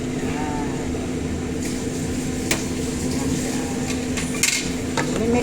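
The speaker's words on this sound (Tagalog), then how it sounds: "Mix po natin yan siya." Food being mixed in a pan after sesame oil is added: intermittent scraping and clinks of a utensil against the pan over a steady hum, close and moderately loud.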